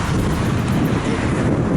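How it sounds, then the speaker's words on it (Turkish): Strong wind roars steadily across the microphone, a dense, rumbling buffet that holds loud and constant throughout. "Çok şiddetli bir rüzgar var."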